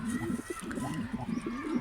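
A male pigeon coos repeatedly in a soft, rolling rhythm near its nest, fairly close, with faint background noise around it.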